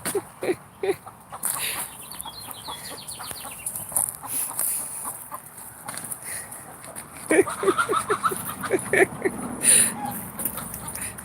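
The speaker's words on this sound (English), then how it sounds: "The rooster's all mad." Chickens cluck and squawk in short agitated bursts, with a rooster among them, scattered over several seconds amid faint background noise.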